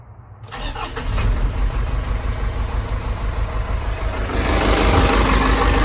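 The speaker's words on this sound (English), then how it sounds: "start the truck" A 2002 Isuzu NPR truck with a 4.8-liter 4HE1 diesel cranks and fires up, then settles into a steady, loud, close idle that continues to the end with no talk.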